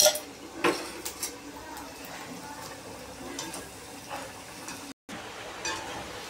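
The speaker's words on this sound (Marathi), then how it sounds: "एकमेकांना घासल्यावर कसं म्हणजे एकदम कडक आणि कुळकुळीत आवाज येतो." Crisp deep-fried sabudana vadas scraped and rubbed together in a kitchen, giving scattered dry scratchy clicks and knocks, moderately close, over a faint background hiss with a brief dropout near the end.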